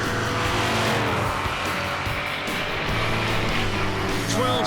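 A drag racing car makes a loud pass on a drag strip, its engine roaring continuously with a steady growling drone and rising pitch as it picks up speed.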